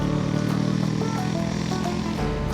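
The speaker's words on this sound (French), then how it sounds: "On va laisser passer la moto." A motorcycle passing close by, its engine a loud steady droning hum that fills the whole stretch and shifts slightly in pitch as it goes past.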